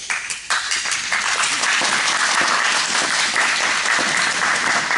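An audience in a chapel claps steadily and loudly throughout, a dense continuous patter with no voices over it.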